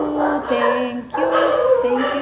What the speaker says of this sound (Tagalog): Ang ingay talaga dito guys ng aso namin.